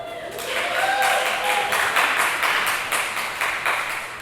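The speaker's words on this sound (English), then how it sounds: "So I want to give y'all a round of applause." Applause from a conference crowd after a speaker's thanks, a dense wash of many hands clapping that holds steady at close range for several seconds.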